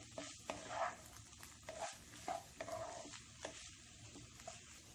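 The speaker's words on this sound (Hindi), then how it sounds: "फ्लेम को मीडियम पे रख के मिक्स कर लें।" Masala potatoes stirred in a pan over a medium flame, a faint soft sizzle with irregular scraping and tapping strokes of a spoon, no voices.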